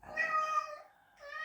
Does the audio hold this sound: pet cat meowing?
yes